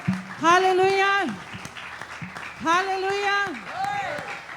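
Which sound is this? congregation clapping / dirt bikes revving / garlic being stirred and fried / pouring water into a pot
congregation clapping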